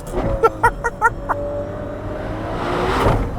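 A Ferrari 12Cilindri Spider with a V12 engine is heard as a car passes by, starting with a few short sharp bursts and then swelling into a rising engine roar that grows louder toward the end.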